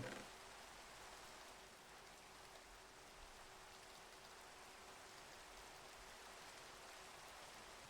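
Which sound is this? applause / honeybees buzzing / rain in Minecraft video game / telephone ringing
rain in Minecraft video game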